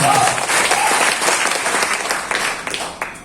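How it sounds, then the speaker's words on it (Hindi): An audience in a hall at a leaders meeting bursts into loud, dense applause that gradually thins toward the end, with scattered individual claps audible as it fades. "इनके लिए एक बार जोरदार ताली बनता है।"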